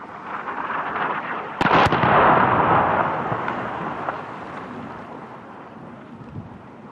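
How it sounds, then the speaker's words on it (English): An airstrike in Syria, heard as a sharp explosive crack and then a heavy, rolling boom that rumbles and fades slowly over several seconds across open ground, with no voices. "Within a couple of hours of our arrival, I witnessed one of the regular airstrikes."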